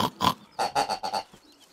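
Black pigs in the Farm Simulator 17 video game grunt and oink: two quick grunts, a short pause, then four rapid close oinks, loud and clear with no talking.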